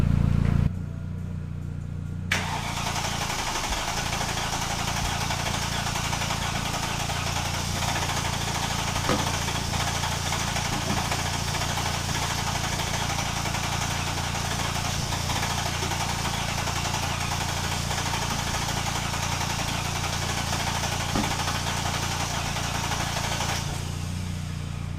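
A Mercedes M113 5-litre V8 swapped into a Ford Capri runs steadily after a brief start, a loud, continuous, rumbling idle that holds nearly unchanged for about twenty seconds before cutting off near the end.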